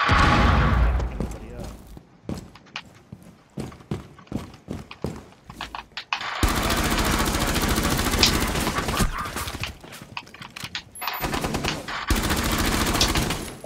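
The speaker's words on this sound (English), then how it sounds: "That's a wall bang." Bursts of gunfire crack in quick clusters, shooting through a wall in Rainbow Six Siege, then sustained heavy shooting fills the middle and end, loud and close, with game-like impact noise.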